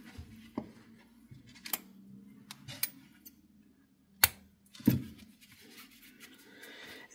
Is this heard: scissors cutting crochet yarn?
yes